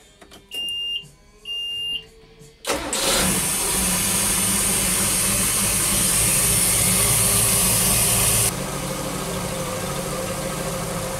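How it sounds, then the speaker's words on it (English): A boat's starboard engine fires up after two short electronic beeps, then runs at a steady loud idle with a bright whine that drops slightly in level near the end. "starboard engine looks like it's good"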